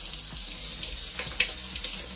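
A newly installed kitchen faucet pours hot water into the sink in a steady, close hiss and splash, with no one talking.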